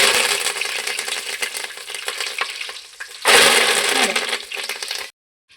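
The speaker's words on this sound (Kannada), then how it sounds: "ನೋಡಿ, ಚೆನ್ನಾಗಿ ಫ್ರೈ ಆಗಬೇಕು. ಇಷ್ಟು ಕರಿಬೇವಿನ ಸೊಪ್ಪು ಹಾಕ್ತಾಯಿದ್ದೀನಿ." Curry leaves frying in hot oil for a tomato bath made with ration rice and field beans, a loud, close, crackling sizzle that swells sharply partway through and then cuts off.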